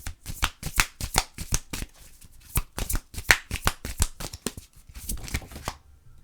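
A Tao oracle card deck is shuffled by hand, giving a quick run of crisp, close riffling card flicks and taps, with no talk.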